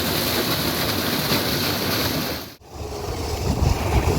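A water pump at Perumthiruthy Pulikakadavu forces water out hard, making a loud, steady broadband rush like roaring surf. The rush cuts out briefly partway through, then returns just as strong.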